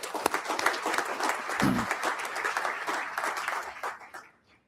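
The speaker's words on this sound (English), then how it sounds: "So again, round of applause for our comms team that put that video together." Sustained applause from a crowd, dense steady clapping that carries on for several seconds before quickly fading out.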